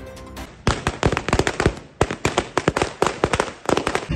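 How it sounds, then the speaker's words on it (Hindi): Firecrackers burst in a dense, rapid string of loud, sharp cracks at a street celebration in Gandhi Chowk, Panna, the pops coming close and irregular for several seconds. "एक दूसरे को मिठाई खिलाई और पटाखे फोड़कर जश्न मनाया गया।"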